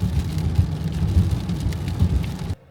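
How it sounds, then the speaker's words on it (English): Rain pours down on a car driving along US Route 1 in Maine, a dense, steady wash of drumming and road rumble that cuts off abruptly near the end. "Getting a little bit of rain pouring down here on US 1."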